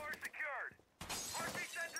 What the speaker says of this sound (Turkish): Yine camını da kırmış.